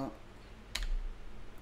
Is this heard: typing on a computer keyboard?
yes